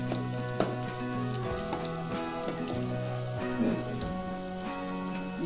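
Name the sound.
chillies and garlic roasting in a pan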